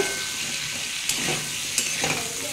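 Pointed gourd and potatoes with turmeric and salt fry in a pan with a steady close sizzle, while a spatula stirs them in a few brief scraping strokes.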